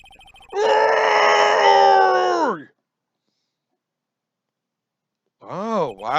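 A long, anguished human scream in the Phoenix Wright: Ace Attorney courtroom game is heard close and loud, trailing off before silence, then a wavering second cry starts at the end.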